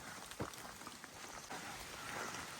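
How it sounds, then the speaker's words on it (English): Light rain patters steadily on the Appalachian Trail, a soft, even hiss with faint scattered drops, quiet and close, no voices. "A little bit of rain, not that bad."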